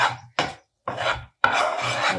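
Gram flour (besan) roasting in a pan is stirred in four rasping, scraping strokes with short pauses between them, close and fairly loud with no talking.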